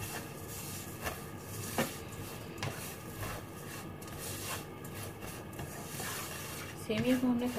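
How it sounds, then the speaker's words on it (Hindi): Vermicelli roasting and being stirred in a pan gives a low, steady crackle and hiss with occasional light scraping taps, fairly faint, and a brief clatter near the end. "सेमी को हमने थोड़ा सा इतना भूनना है कि इसमें से हल्की सी खुशबू आने लगे।"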